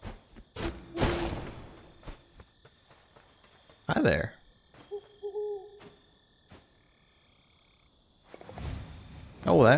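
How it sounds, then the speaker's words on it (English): Owl hoots from the ambient soundscape of the video game Death's Door, a few separate soft calls spaced through the stretch between louder bursts of game sound effects, with no talking. "I don't know if that sound effect is just part of the ambiance or if it is specifically a hint that there's this owl up here"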